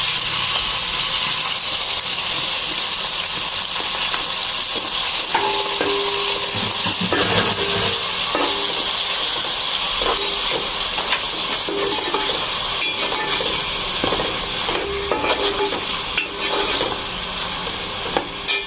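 Minced keema with ginger garlic paste and browned onions sizzling and frying in a pan, a loud continuous hiss with intermittent stirring scrapes and clinks throughout.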